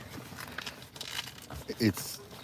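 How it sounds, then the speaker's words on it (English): Velcro flap on a dog hammock's seatbelt opening, a brief rough crackling rip about halfway through, close and fairly loud, with people talking around it. "That's some good Velcro there"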